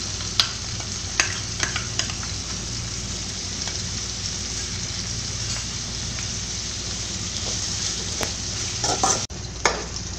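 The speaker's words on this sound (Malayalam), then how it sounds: "നമ്മുടെ സവോള കൂട്ട് നന്നായിട്ട് വഴന്നു വന്നിട്ടുണ്ട്" Onions and small onions frying in a pan with ginger-garlic paste for a beef ularthu make a loud, continuous sizzle, broken by sharp clicks of a spoon stirring against the pan, with no talking.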